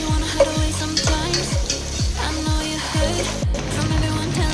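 Onion browning in hot oil in a pan with dried red chilli, ahead of adding broccoli and potato; a steady sizzle with repeated scraping strokes of a spatula in an even rhythm, close up.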